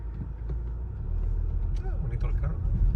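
A pickup truck rolls into a hotel parking lot, its engine rumbling low and steady and growing slightly louder as it nears, with faint street noise around it.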